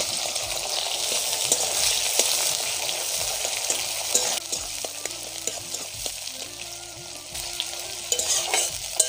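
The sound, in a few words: onions frying in oil with dried chili and cumin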